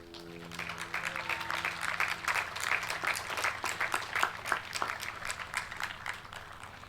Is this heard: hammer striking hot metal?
no